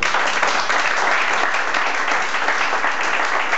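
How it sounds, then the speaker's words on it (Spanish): Audience applause for a jazz performer at a live show, a dense, steady wash of clapping that holds loud and even throughout with no voices over it. "vamos a dar un aplauso a don Pablito Carmona"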